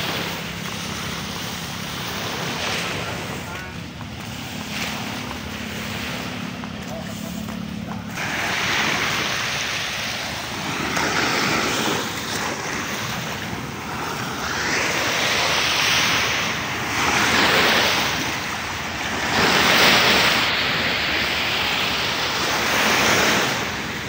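Ocean waves wash onto Pantai Alam Indah beach in Tegal, a steady broad roar of surf with swelling surges, wind buffeting the microphone at times and no voices.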